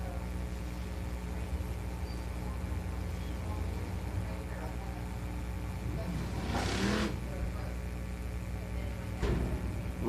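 Winged sprint car engines from the Southern United Sprints drone steadily during hot laps at Big O Speedway. The sound is distant and fairly quiet, with a couple of brief surges as cars pass.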